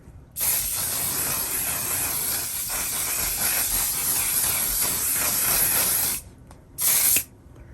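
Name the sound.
spraying mattifying makeup setting spray on face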